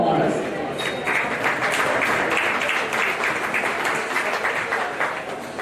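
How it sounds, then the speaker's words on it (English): Audience applause at a county fair swine show, a steady wash of many hands clapping across the whole stretch with talk mixed faintly underneath. "Let's give them a round of applause."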